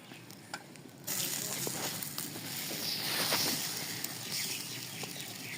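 Rice roti (chawal ki roti) cooking on a hot, lightly oiled tawa gives a steady close sizzle that swells in loudness after about a second, with a few faint taps over it.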